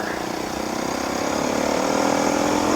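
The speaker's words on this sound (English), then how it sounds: "Now we're playing around on the little bikes on the main corridor." Small dirt bike engines ride along a forest trail corridor, a steady mid-pitched motor drone that holds and builds slightly in loudness, fairly close and continuous with no talk.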